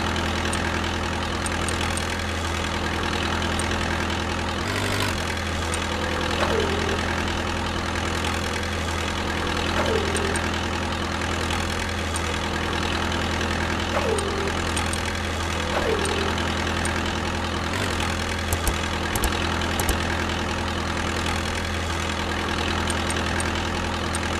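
Forklift engine idling steadily while the mast tilts and the forks lift, a constant loud mechanical drone with faint intermittent hydraulic whines and small knocks, close by.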